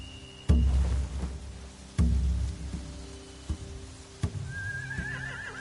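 A horse neighs and whinnies amid heavy thuds and knocks, with a faint high whine rising near the end; no voices.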